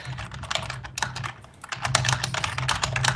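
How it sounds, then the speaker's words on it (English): A computer keyboard is typed on quickly and up close over an online voice chat during a Secret Hitler board game night. The clicks come in dense, irregular bursts, with a brief lull midway, and no one speaks. "Who's typing? That's really obnoxious."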